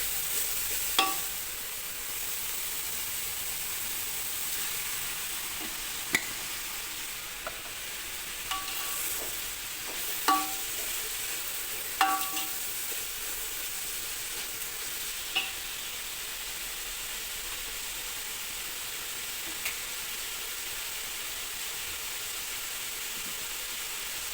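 Onions frying in coconut oil for chicken biryani, a quiet steady sizzle and hiss with occasional soft clicks of stirring.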